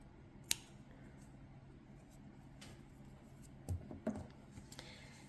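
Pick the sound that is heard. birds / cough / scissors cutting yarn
scissors cutting yarn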